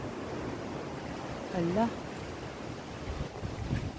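Steady broadband rush of a fast-flowing flooded creek after a typhoon, continuous and fairly loud, with a brief voice breaking in partway through.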